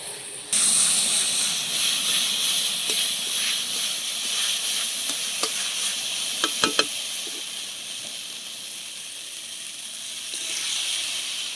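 Sour roselle leaves are stir-fried in a hot pan, producing a loud hissing sizzle that starts abruptly and holds steady, with occasional spatula scrapes and a brief cluster of sharp clicks midway.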